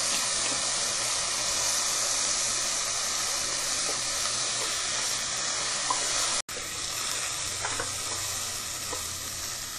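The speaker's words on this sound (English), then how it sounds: "So now that we've cooked down the potatoes and carrots a little bit" Potatoes and carrots sizzling and frying in a pot for Mexican meatball soup, a loud steady hiss of cooking with occasional stirring, briefly interrupted once near the end.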